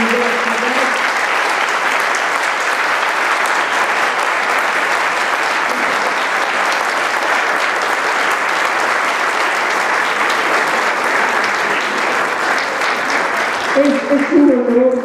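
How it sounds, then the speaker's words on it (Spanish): Loud, sustained applause fills a university hall as an audience honours a guest, the clapping steady throughout, with a brief trace of voices or music near the beginning and end. "Les ruego un gran aplauso para esta maravillosa persona de la universidad."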